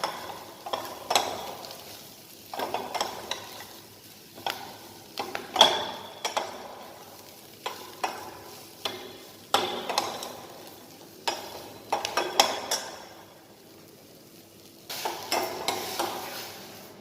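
Broccoli and mixed vegetables cook in a soup pot while a spoon stirs and scrapes in irregular bursts, over a soft, continuous low simmer with no voices.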